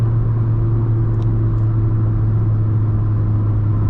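Volkswagen Polo GTI lookalike car accelerating, a loud, steady, deep engine drone with cabin rumble heard from inside, holding an even pull with no voices.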